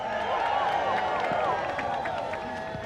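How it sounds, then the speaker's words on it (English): Crowd applause and cheering at an outdoor civil rights rally in Washington DC on a rainy day, a steady, fairly distant wash of clapping under amplified tonal sound and faint voices. "give him a round of applause"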